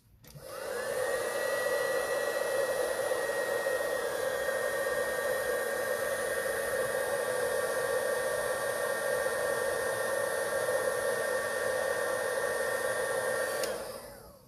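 A handheld heat gun blows hot air onto a crayon-coloured card, a loud, steady roar with a whining tone that runs unbroken for about thirteen seconds before cutting off, with no talking.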